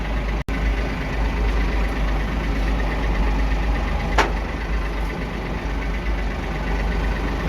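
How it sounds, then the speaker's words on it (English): A front end loader's large diesel engine idles steadily at close range, a continuous low rumble, broken by one sharp click near the start and a brief squeak partway through. "I'm just driving them hanging in the air right here. The front end loader."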